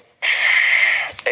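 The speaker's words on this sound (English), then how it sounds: "First exercise, inhale," A single deep, breathy inhale for a lung breathing exercise, drawn close to the microphone for about a second, followed by a short catch of breath.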